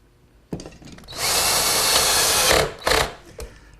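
A power driver sends screws from the inside into the rail of a walnut table. After a sharp knock it runs in one steady, loud whir, then gives a short final burst.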